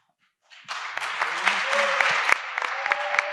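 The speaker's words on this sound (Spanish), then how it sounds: "vos decís Luis en estos 3 días y lo aplauden" After a brief silence, an audience at an academic panel on cannabis culture starts applauding for Luis, the clapping rising quickly into a full, steady round of many hands close to the microphone.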